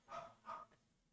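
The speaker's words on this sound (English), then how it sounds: "my dog is barking" Two quick, faint dog barks from inside a house, each short and sharp, sounding somewhat distant and quiet.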